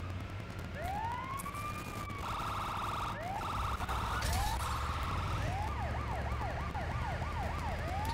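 A police car siren in a video game wails through rising and falling sweeps, then changes to a fast yelp, loud and continuous over a steady low engine rumble, with no one speaking.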